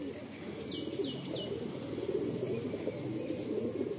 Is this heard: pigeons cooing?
yes